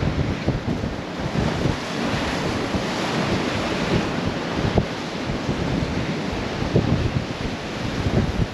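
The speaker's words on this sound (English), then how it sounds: "these homes here are actually getting battered by the waves and the wind right now" Storm waves pound the Lake Erie shoreline beside lakeside homes, a loud continuous roar of surf with irregular crashes and gusting wind buffeting the microphone throughout, no speech.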